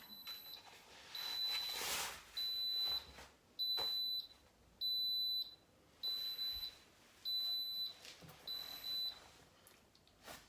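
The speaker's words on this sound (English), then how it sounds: "And it will beep to say it's finished." An Instant Pot pressure cooker beeps to signal it has finished, a series of about eight short high-pitched tones in a regular pattern, clear in a quiet room.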